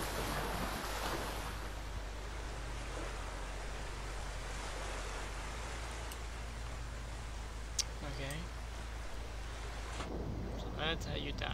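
Ocean waves in the video game ABZU, a continuous loud wash of surf noise filling the scene, easing slightly toward the end, with faint chimes and game tones over it.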